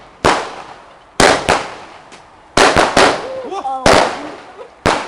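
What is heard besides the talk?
firecrackers going off on Bonfire Night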